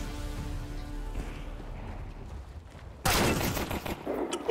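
Gunfire from the video game Counter-Strike 2, with quieter scattered shots early on and then a loud, dense burst of rapid fire toward the end, no talking.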